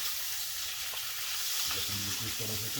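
Chicken fries in oil with a close, even sizzling hiss and a few soft bubbling pops, and a voice is faintly present underneath.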